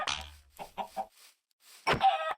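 Minecraft chickens cluck in the game, a few short close calls spaced apart, then a louder burst near the end.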